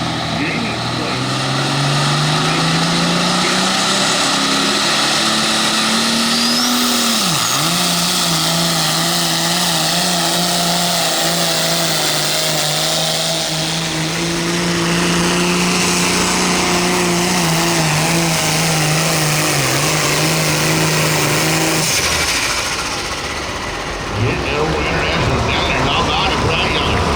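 A pro field tractor roars steadily through a tractor pull run at Holden, Missouri, its loud engine drone holding for most of the run and briefly dipping near the end, with an announcer talking over it.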